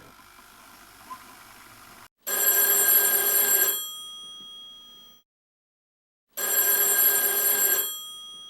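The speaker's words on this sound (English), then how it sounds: "answer the phone." A telephone bell rings loudly in two long bursts separated by a pause, with a quiet room tone beforehand.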